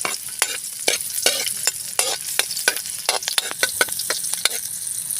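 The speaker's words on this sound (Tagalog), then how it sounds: "gigisa tayo mga birds ng ating aromatics bawal alams na yan sibuyas" Onion and aromatics sautéing in a pan for Filipino adobo, a steady sizzle broken by repeated sharp scraping strokes of a spatula stirring, close and busy with no talking.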